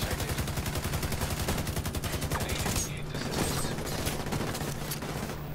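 Turret gunfire in a video game, a rapid, sustained mechanical rattle of shots that runs continuously and loudly throughout.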